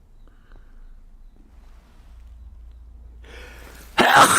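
A sudden loud sneeze bursts out near the end after several seconds of quiet room hum and faint rustling, close to the microphone.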